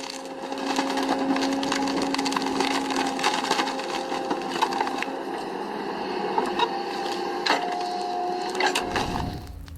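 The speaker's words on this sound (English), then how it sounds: "here's a machine that pulls stumps out as if plucking a carrot from the soil" A hydraulic machine pulls tree stumps from the ground with a continuous loud mechanical drone and whine, overlaid by crackling and splintering wood. The noise cuts off abruptly near the end.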